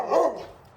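A single short dog bark, close and clear, fading quickly into quiet.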